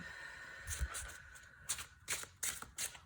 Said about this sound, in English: one more riffle shuffle